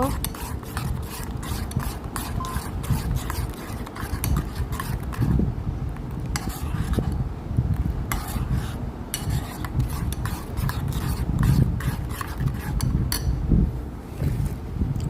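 Sugar-sweetened ice cream mixture is stirred and scraped in a bowl, giving a steady, close rasping and rubbing texture with soft clinks, continuous and fairly loud throughout with no talking.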